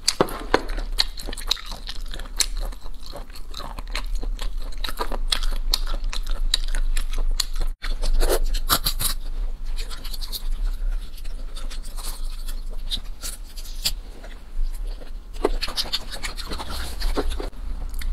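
Crunchy chewing of a spicy stir-fried snack during a Chinese mukbang eating session, with dense, close bites and crackling mastication running steadily throughout and no talk.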